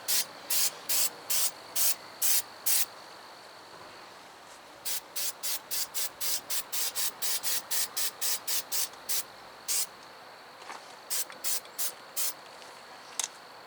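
Short bursts of aerosol rust inhibitor hiss onto a 2017 Subaru WRX rear brake spindle and backing plate, a close series of quick rhythmic sprays with a few brief pauses between groups, no talking.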